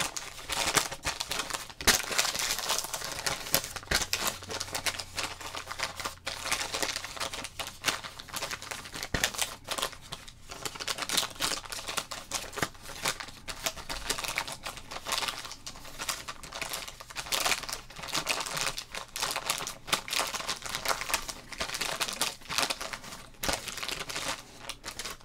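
The plastic wrapper of a 1991 Topps baseball card pack crinkles close up, with dense, continuous crackling and rustling that lasts throughout, unbroken by speech.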